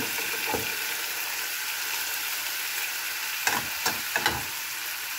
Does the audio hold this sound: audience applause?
no